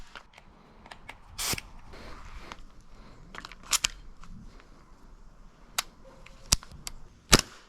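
An airsoft MP7 fired through a chronograph: three sharp, snappy shots spaced a couple of seconds apart, among quieter clicks and handling noises at close range, with no talking.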